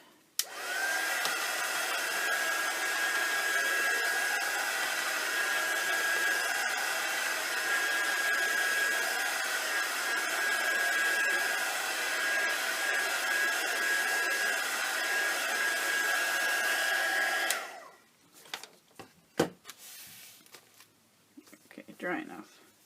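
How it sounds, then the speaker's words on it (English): A hair dryer blows at a steady, loud roar for a long stretch over a wet art journal page, then switches off, leaving faint scraping and handling noises. "I'm going to hit it with the dryer"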